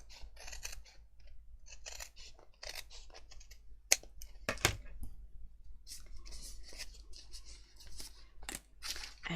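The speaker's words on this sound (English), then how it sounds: "I think I will need to trim just a little section here." Scissors snipping faux leather for a mini album cover, a quiet close series of irregular short cuts with a few sharper clicks in a calm room.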